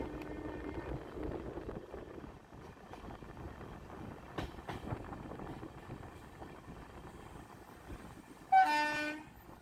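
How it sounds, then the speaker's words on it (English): Mangaluru–Madgaon passenger train arriving at Madgaon station from the Karwar end: a steady rail rumble, then one loud horn blast near the end, strong and close. "This is the 56616 Mangaluru Madgaon passenger arriving from Karwar end of Madgaon."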